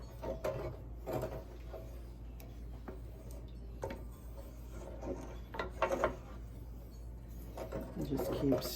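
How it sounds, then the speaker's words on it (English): A spoon scrapes and stirs turkey gravy in a pan over medium heat, working the bottom and sides with soft irregular rubbing and scraping strokes over a steady low hum. "just keep stirring and scraping off the bottom"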